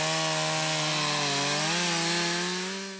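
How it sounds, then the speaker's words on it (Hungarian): A chainsaw runs at a steady, loud pitch while cutting felled acacia trunks during logging for a firewood program, and its engine note shifts slightly under load with no voices. "A kivágott akácfákat aztán a munkások bemérik, és már zúg is a láncfűrész"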